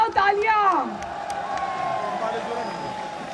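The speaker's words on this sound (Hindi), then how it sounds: "तालियां बजाओ, तालियां।" A crowd at a political rally claps and cheers in a steady, dense wash of noise, starting just as a raised voice finishes speaking over it.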